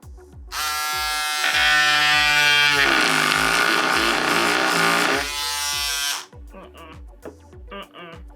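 Battery-powered electric scissors buzz loudly as they try to cut through eight stacked layers of denim. A steady motor drone rises in pitch and strains under load, then cuts off, followed by a few faint handling clicks.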